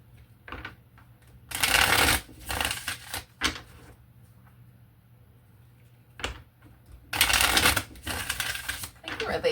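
Tarot cards are shuffled in several loud riffling bursts, close up, separated by quieter pauses and a few single card taps.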